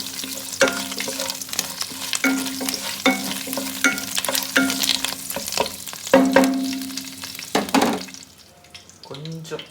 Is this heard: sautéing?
yes